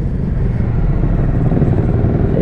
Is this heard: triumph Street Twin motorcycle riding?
yes